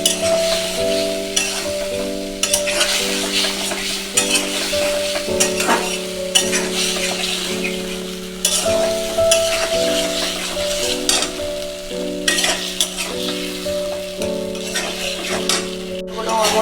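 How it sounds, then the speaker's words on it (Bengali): Spice masala with tomato sautéed and stirred in a pan, a steady sizzle with continuous scraping strokes running throughout, close and fairly loud, with tonal background music underneath. "একটু কষিয়ে নেবেন ভালো করে।"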